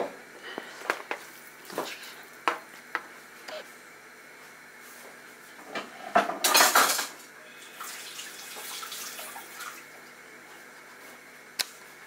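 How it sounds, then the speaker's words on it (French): Utensils clink and scrape against a bowl while seafood pastilla filling is mixed, with scattered sharp taps, a louder scraping burst midway, and quieter stirring at close range. "Et là, je vais tout mélanger."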